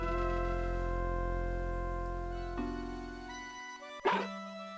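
A dog barks in the Mother 3 video game, a short synthesized bark sounding once near the end over a sustained tonal game music background.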